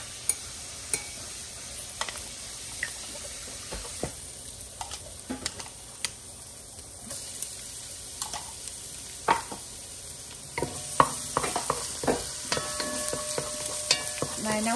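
Garlic sizzles softly in a pan of oil with scattered clicks and scraping taps of a utensil stirring, close and quiet, growing busier toward the end.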